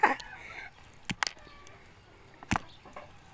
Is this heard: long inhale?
no